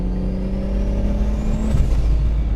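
Steady rumbling Lexus IS300 2JZ engine with a single S366 turbocharger, its rising turbo whistle peaking and then dropping, loud and continuous.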